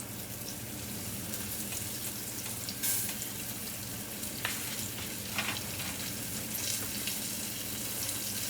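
A flour-coated hamburger patty fries in oil in a skillet with a steady, even sizzle and a few faint clinks, and nobody talks.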